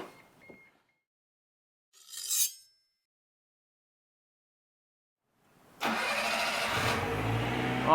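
A car with a newly fitted exhaust cranks with a short scraping starter whirr after a quiet pause and a brief earlier noise, then catches and settles into a steady, close idle.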